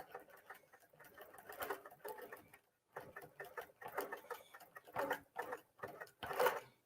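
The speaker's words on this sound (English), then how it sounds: "So I just want to sew down here so that I get the look of my flower." Short, irregular bursts of a sewing machine stitching down layers of a baby bubble quilt, with a light, patter-like mechanical rattle and brief stops between runs.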